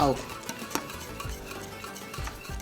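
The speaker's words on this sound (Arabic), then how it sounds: "من تم نحرك من 5 دقايق ل10 دقايق لتتعقد معنا" A butter and flour roux is stirred in a pot with quick, repeated scraping strokes. A voice is heard briefly at the start.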